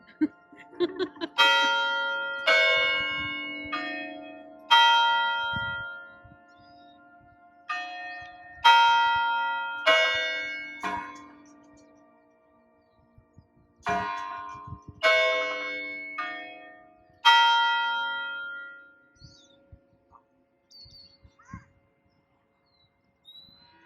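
Tower bells cast for the 1893 World's Columbian Exposition ring out in a series of loud, resonant strikes, each tone decaying slowly before the next peal begins.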